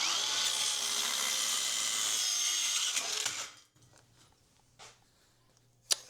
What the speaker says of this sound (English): 45-degree miter cut on 3/4 inch oak flooring.